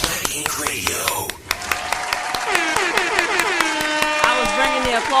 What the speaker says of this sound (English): I was bringing the applause in.